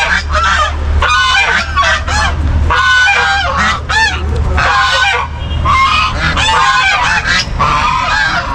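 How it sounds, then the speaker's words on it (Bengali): Several domestic geese at a children's park by a boating pond honk loudly and continuously, their overlapping calls close by and filling the scene. "বেশ কয়েকটা রাজহাঁস এখানে কিন্তু রয়েছে।"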